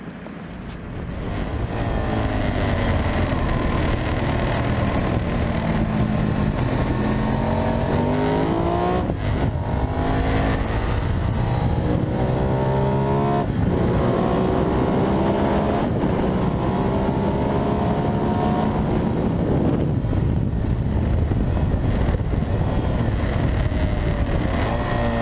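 A Ducati 998 motorcycle with an L-twin desmodromic engine runs loud and steady for about 25 seconds, its pitch sweeping up and down through gear changes as it accelerates and eases off.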